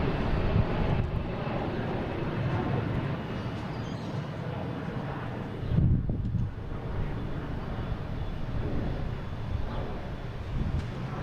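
Jet engines of a big Delta airliner at Boston Logan International Airport give a steady, broad roar, distant but strong, with a faint wind rumble and a slight swell partway through.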